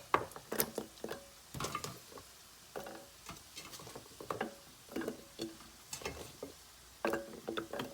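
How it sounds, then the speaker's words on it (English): Carrots are placed around a roast in a crockpot, giving soft scattered taps, clicks and thuds of the vegetables knocking against the pot and meat, quiet and irregular. "now I'm going to put my carrots around the outside of the roast"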